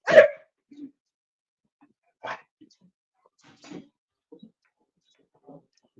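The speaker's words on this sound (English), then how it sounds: "Sorry about my dog." Dog barking indoors, one loud sharp bark followed by several fainter scattered barks and whimpers at irregular intervals, with quiet gaps between.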